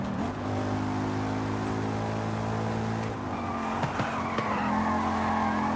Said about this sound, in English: this car is literally running out of breath right now. Yeah, at 140, 145, it starts struggling.